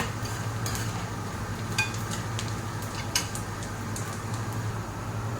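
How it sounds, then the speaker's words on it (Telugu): Onions frying in a pot give a steady, low sizzle, with a few light clinks of a stirring spoon against the metal. "ఇప్పుడు ఆనియన్ అంత లోపల ఫ్రై అయిపోతాయి మనకి"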